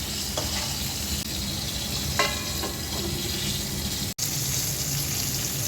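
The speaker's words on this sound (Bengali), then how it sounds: "বেগুন ভাজা হচ্ছে" Eggplant slices fry in hot oil with a dense, constant sizzle that stays loud and even, broken by a few light utensil taps and a brief dropout.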